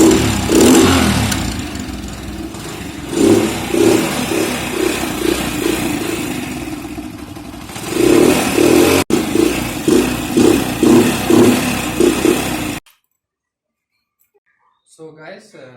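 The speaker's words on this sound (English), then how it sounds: "look at the sound of the exhaust." Hero Honda Splendor motorcycle with a modified stock exhaust, revved repeatedly up close in loud rhythmic bursts between steadier idling, then cut to silence followed by a faint voice.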